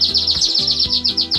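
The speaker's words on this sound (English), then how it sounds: "Our bird of the week this week is a delightful Scotch Fancy." A Scotch Fancy canary chirps a quick, steady run of bright repeated notes, about a dozen evenly spaced tweets close to the microphone, with no talking.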